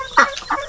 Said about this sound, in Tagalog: Ito yung ating Peking duck dito.